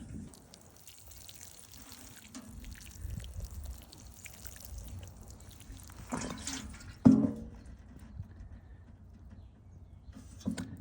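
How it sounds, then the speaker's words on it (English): Water is poured into a bag of FoxFarm coconut coir blend soil mixed with perlite and drains through it, a faint, soft trickle and patter with a few sharper splashes nearby. "Let's see how it accepts the water."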